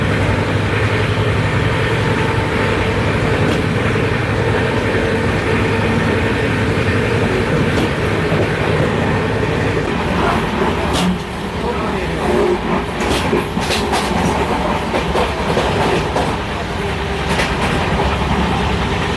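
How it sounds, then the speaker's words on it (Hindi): An Ahmedabad–Gorakhpur Express passenger train rumbles along the tracks at speed, a loud continuous roar with rattling and clattering wheels throughout. "लोकल ट्रेन वर्सेस हमारी ट्रेन।"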